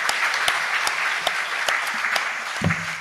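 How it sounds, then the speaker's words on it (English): Audience applause for debate candidates at a Waterford event, a dense steady wash of clapping with scattered sharper claps and a brief voice near the end. "let's give all the candidates a round of applause"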